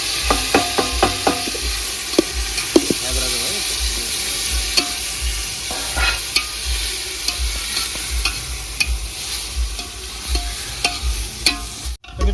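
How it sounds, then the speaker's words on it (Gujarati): Chopped tomato sizzles and crackles in a hot pan as it is stirred, with repeated scraping strokes of a spoon over a continuous frying hiss, close and fairly loud, no talk. "આપણે અંદર જે કાપેલો ટોમેટો હતો એ તપેલામાં નાખી દેશું"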